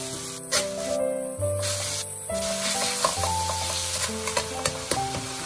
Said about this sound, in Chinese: 炒香后加入肉末，继续小火煸炒